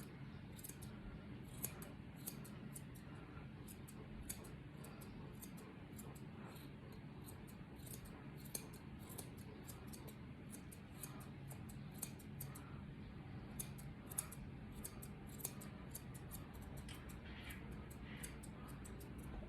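Scissors trim fur in rapid, faint snips that repeat steadily over a low background hum, with no talking.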